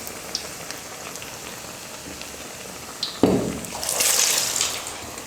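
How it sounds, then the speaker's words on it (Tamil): Vada batter sizzles and crackles in hot oil, a steady frying hiss that swells into a louder burst of bubbling as fresh batter drops into the pan, close and without talking. "இந்த மாதிரி ப்ரெஸ் பண்ணிவிட்டு எண்ணெயில் போட்டுக்கலாம்"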